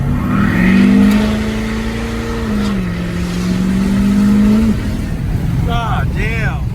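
A 2017 Ford Powerstroke 4x4 diesel truck launches hard with a loud, sustained engine roar that climbs and holds through the pull, then drops off, with excited voices and shouting over it near the end.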